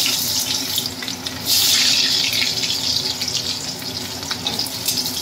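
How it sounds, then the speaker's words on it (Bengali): Sliced potatoes fry in a pan while a katla fish kalia is being cooked, giving a continuous close hiss and sizzle that swells louder for a moment early on, then settles into a steady crackle. "একটু ভেজে নিচ্ছি"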